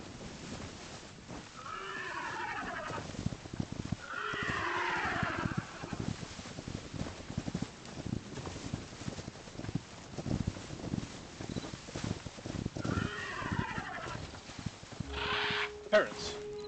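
A horse in the Hytale video game whinnies several times in long descending neighs, with clip-clop hoof steps and game sounds in between, fairly close and moderately loud.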